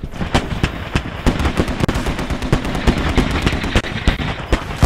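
Rapid gunfire in the Squad video game, loud sharp shots fired in quick irregular bursts almost without pause.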